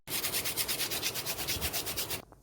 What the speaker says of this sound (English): I'm removing the salt with my brush.